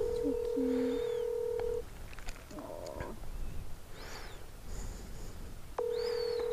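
Touch-tone keypad beeps from a mobile phone being dialed outdoors in the hills, a couple of long steady tones and short blips near the start and end, with quieter rustling and faint bird-like chirps between.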